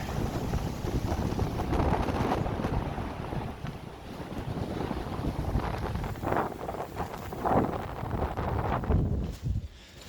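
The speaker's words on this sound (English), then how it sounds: "Nice and windy today." Strong wind buffets and roars across the microphone in rough, continuous gusts on the Appalachian Trail in the North Georgia mountains, loud and close throughout.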